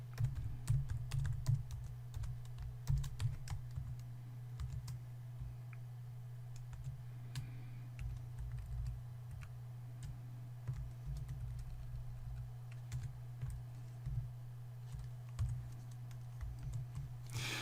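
Steady typing on a computer keyboard while code is written, close and clear, with quick irregular clicks, short pauses and a low hum underneath.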